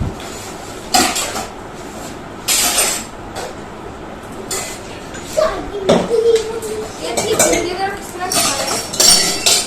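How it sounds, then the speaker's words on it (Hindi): Pots, pans and utensils clink and clatter in scattered bursts during dishwashing in a home kitchen, with someone talking over the sounds. "बर्तन साफ करती हूँ"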